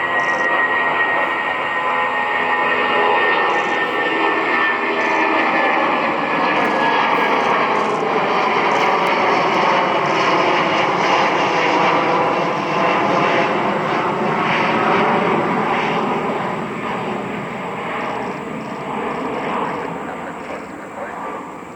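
A Boeing 757 jet in National Geographic livery departs Cleveland. Its engines make a loud, sustained roar that swells and slowly shifts in pitch over about twenty seconds, with voices faintly audible beneath it.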